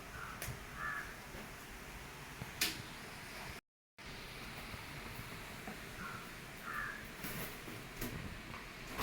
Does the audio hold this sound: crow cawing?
yes